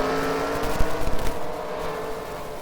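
Race cars lapping the oval at Charlotte in a racing game, a steady engine drone with a brief louder whoosh as cars pass close, heard without talk.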